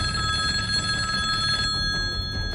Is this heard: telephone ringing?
yes